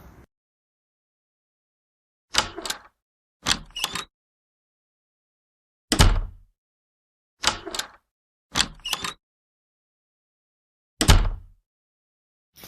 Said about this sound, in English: It's a door.